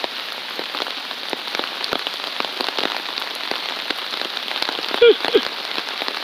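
Steady rain falls outdoors in Seoul during cherry blossom season, a dense, even patter of drops on surfaces that continues throughout, with a couple of slightly louder taps near the end and no talking.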